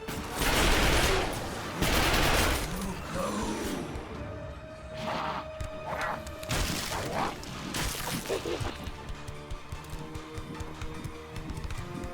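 Heavy gunfire in the video game The Darkness 2: dense bursts of shooting and impacts layered over game sound, loud in places and continuous throughout, with a voice briefly calling out.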